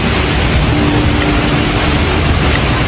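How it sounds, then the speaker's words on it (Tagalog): Heavy rain pours down on Orchard Road near Shaw House on a morning street, a dense, steady hiss of downpour with no break, mixed with faint traffic noise. "ang lakas po ng ulan guys dito sa Orchard"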